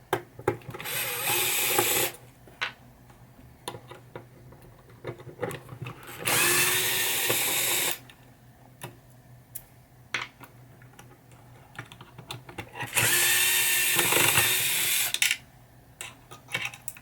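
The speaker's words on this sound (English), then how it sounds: "Alright, so much easier with power tools, Mark." Power drill driving out coil screws on a 1976 Bally pinball coin unit: three separate whirring bursts of a couple of seconds each, close and loud, with quiet clicks and handling in between.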